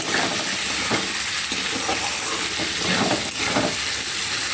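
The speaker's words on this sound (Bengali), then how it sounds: "ভালো করে আমি এটাকে ফ্রাই করব।" Potato and onion frying in a pan with turmeric and salt, a dense steady sizzle and hiss up close with occasional soft stirring scrapes, no talk.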